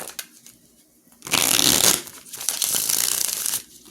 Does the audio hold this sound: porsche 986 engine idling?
no